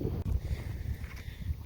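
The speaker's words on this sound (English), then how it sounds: "It is in fact quite windy out here." Gusty tropical-storm wind buffeting the microphone, a low rumbling roar that swells and dips throughout, with no voices.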